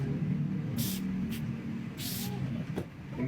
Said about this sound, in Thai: แล้วก็ฉีดเลย ไม่ต้องฉีดเยอะเพราะว่า เป็น สเปรย์ที่เข้มข้นนะ